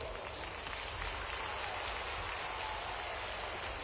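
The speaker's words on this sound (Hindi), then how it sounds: "इस पे जोर से ताली बजाओ बहनों।" A crowd of women at an outdoor rally in Khategaon, Dewas, applauds in dense, continuous clapping that stays steady and even throughout, with no voices on top.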